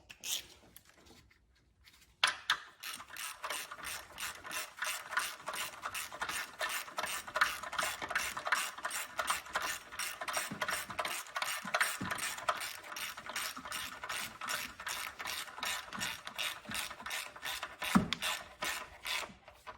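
Hand ratchet clicking rapidly and evenly as it tightens spark plugs on a Lexus RX350 engine, close and continuous after a brief quiet start, with no talk.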